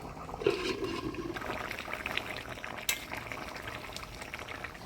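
Fish curry with finely cut squash and fried fish bubbling under a lid, a steady close boiling hiss and burble with a brief clink near the start and another around the third second; no talking.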